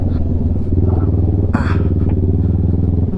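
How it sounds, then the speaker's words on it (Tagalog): A motorcycle passes close by on a rural road in Ilocos, a steady loud engine drone with a brief rushing swell as it goes past. "May motor, pre."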